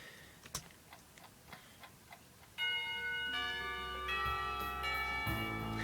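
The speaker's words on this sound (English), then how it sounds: "When the final bell sounds" A school bell chimes in the Katawa Shoujo visual novel. Soft ticks come first, then a bright ringing chime of several sustained bell tones enters and carries to the end.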